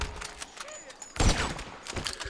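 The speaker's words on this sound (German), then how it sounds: "Also nehmen wir einfach mal eben die Sniper und ballern die ab, die wir abballern können." Gunfire in the video game GTA 5 as a sniper rifle is used: a loud burst of shots in the middle of the clip over game ambience, with someone talking in German around it.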